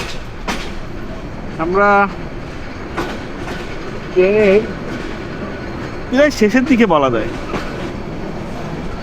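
Passenger train on a Bangladesh railway line near the airport station, running with a steady rumble along the tracks, while several people speak in brief bursts over the continuous rolling noise.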